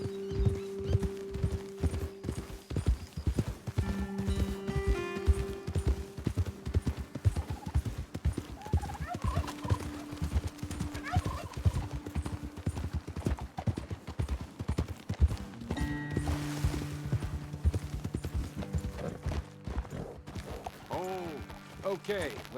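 Horses clip-clop along in the Red Dead Redemption 2 video game, a continuous rhythmic patter of hooves with an occasional whinny, heard under intermittent talk and game music.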